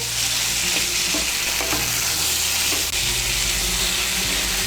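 Ridge gourd and potato pieces fry in spiced oil with a steady, dense sizzle, with a few soft stirring scrapes under it and no voices.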